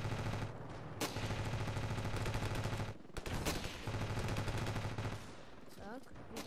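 Rapid, sustained machine gun fire in the Ravenfield video game, loud dense bursts that break briefly around the middle and then resume at full pace.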